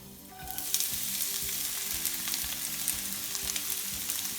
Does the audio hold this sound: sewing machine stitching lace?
no